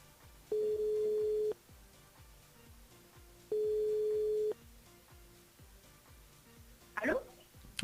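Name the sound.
telephone ringing tone while radio host calls a listener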